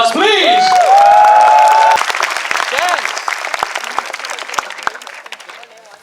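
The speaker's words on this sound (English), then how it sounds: "Let's give him a round of applause, please!" An audience at a Final Fantasy XV Midnight Collection event in Malaysia breaks into loud, sustained applause with some cheering. An amplified voice speaks over it at first, and the clapping tapers off toward the end.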